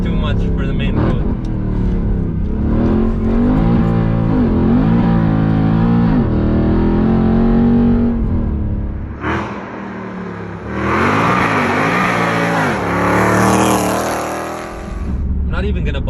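A Mercedes CLK 63 AMG Black Series with a stage 3 Weistec supercharger revs hard through several rising and falling sweeps, loud and close, with a brief lull before the engine climbs again.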